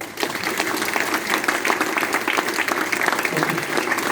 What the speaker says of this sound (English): I'm going to ask you to please clap again